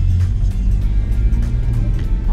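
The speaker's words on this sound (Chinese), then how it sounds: "那个车内嗡嗡的声音， 那个共鸣声蛮好听的，" Ford Focus with an ArmaSpeed intake kit, heard from inside the cabin while driving on a level road: a steady low resonant engine hum with a deep droning tone, continuous and fairly loud.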